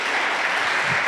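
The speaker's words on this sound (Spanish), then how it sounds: "Dios merece un aplauso, hermanos" A church congregation at an evening service breaks into a brief, dense burst of applause, steady and fairly loud from start to finish.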